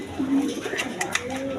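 A pair of Bombay pigeons coo in a low, rolling call that rises and falls, heard up close over a noisy background for a moment.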